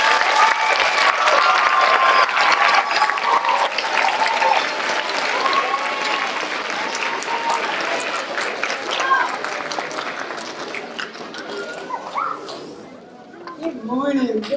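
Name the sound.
audience applause for guest presenter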